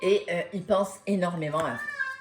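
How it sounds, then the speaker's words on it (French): A domestic cat meows several times in short, rising and falling cries, close and fairly loud, overlapping with someone speaking. "c'est mon chat qui est en train de miauler"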